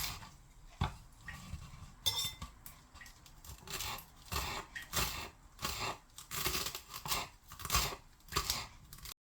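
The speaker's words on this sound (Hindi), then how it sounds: "इन सब चीज़ों को बारीक सा काट लेते हैं।" A knife finely chops coriander, red and green chilies and mint leaves for shami kebab, with quick, irregular bursts of crisp chops close by and no voices.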